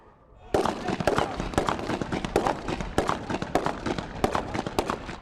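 Live gunfire during a Hamas kidnap exercise in Gaza: after a brief quiet moment, a rapid, dense crackle of shots begins and continues in an irregular stream of sharp reports, fairly close.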